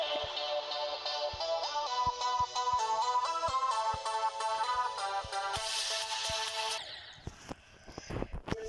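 Bright, chiptune-style electronic melody from the game Geometry Dash, with a steady ticking beat, ending in an abrupt cut and a few sharp clicks; no voices.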